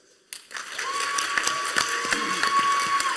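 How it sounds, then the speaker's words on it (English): Convention panel audience at PAX East applauding, clapping starting abruptly and continuing as a dense, steady round of applause from a room of people. "give a round of applause for Square Enix"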